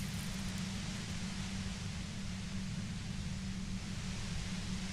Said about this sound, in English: The violet-white noise becomes even more overwhelming closer to the compressor.